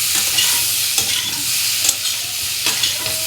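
Spice paste for a fish curry with papaya and tomato fries loudly in a pan, a bright steady sizzle punctuated by several crisp scraping stir strokes, close and without any voices.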